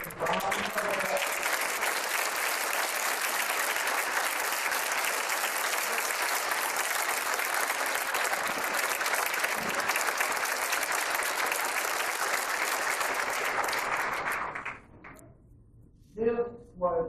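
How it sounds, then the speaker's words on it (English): Long, steady applause from an event audience honoring a guest who stands, dense clapping for about fourteen seconds before stopping, followed by brief talk. "I ask that you give Janet Moran, if she would stand, if she's not standing already, a round of applause."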